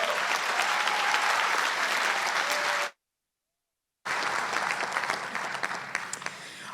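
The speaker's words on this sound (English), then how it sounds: "Another round of applause, please, to all of our leaders" A commencement audience for economics, quantitative economics and data analytics graduates applauds loudly and steadily, the dense clapping cutting off abruptly into about a second of silence before resuming at full strength.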